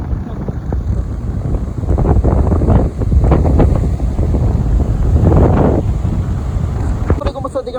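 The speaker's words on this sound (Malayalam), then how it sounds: "ഇവിടുത്തെ കാറ്റ് കണ്ടോ, ശരീരം ഒത്തരണ്ടോ? ഞാൻ കാറ്റ് കാണിക്കാം." Strong wind sweeps through a misty hillside forest at Ooty, buffeting the microphone in loud, rough roaring gusts that swell and ease over several seconds.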